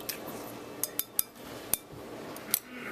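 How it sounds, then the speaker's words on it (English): A whisk or fork clinks against a bowl while eggs are beaten for French toast, giving a few sharp, scattered taps over a quiet, steady background. "I'm just scrambling up the eggs just to get them all together"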